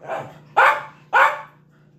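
A dog indoors gives three loud, close barks, the first softer and the next two sharp and evenly spaced, over a faint steady hum.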